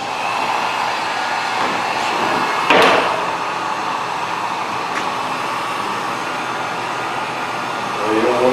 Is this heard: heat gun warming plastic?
yes